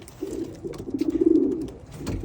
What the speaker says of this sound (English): That little pigeon right there.